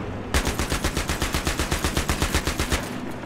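A mounted machine gun in Battlefield 3 fires one sustained, loud burst of rapid, evenly spaced shots that lasts nearly the whole clip, with no talk over it.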